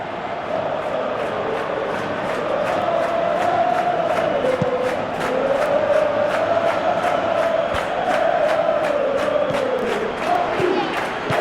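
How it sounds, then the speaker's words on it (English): A huge football stadium crowd at a Real Madrid versus Atletico Madrid La Liga derby, a continuous roar of voices with rising and falling chants and rhythmic whistles or claps, filling the whole stretch with no commentary over it. "you can hear how the crowd are reacting to this too"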